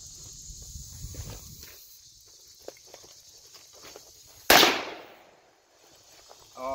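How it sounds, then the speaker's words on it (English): A gunshot at an outdoor shooting range, one loud sharp crack with a lingering tail midway, after quieter shuffling and handling noises, no talk. "he's just shooting. He's not even trying to aim."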